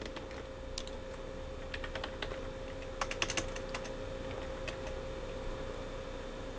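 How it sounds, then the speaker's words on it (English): Computer keyboard typing in short uneven bursts of clicks, fairly quiet and close, with a faint steady hum underneath and no voices. "Let me type this in real quick."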